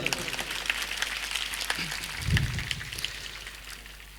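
An audience at a motivational seminar on a school campus applauds a guest, a dense patter of clapping that holds steady throughout, with a brief low thump partway through.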